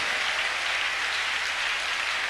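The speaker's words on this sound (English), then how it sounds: "Clap your hands unto God of the chosen." A church congregation claps during a service, a dense, steady wash of many hands with no pauses, continuous and fairly full throughout.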